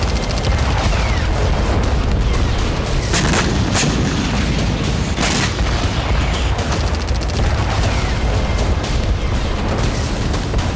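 Loud, dense blasts and rumbling bursts from an attack on a Russian S-400 air defence site at Yevpatoria, Crimea, with sharp cracks at several points over continuous heavy booming.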